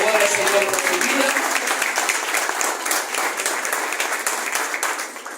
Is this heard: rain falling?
no